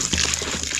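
Water gushes and splashes from a hand-operated borewell pump, a close, continuous pouring rush with uneven surges, no talk over it.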